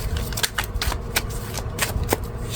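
Tarot cards being drawn and shuffled from the deck during a reading, a quick run of crisp papery flicks and slaps, close and fairly loud, with no talking over them.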